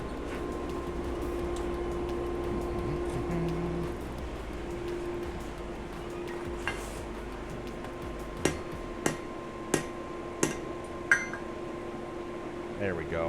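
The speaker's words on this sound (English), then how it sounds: "The hammer again." Hammer blows on a knife blank being forged, five or six sharp evenly spaced strikes in the second half over a steady humming background, loud and close.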